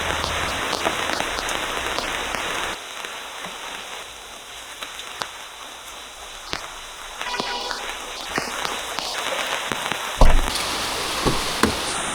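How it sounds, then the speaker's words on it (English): Heavy rain pours steadily with a dense hiss at Sinhagad, India, punctuated by occasional louder knocks and clatters nearby. "It's raining so heavily."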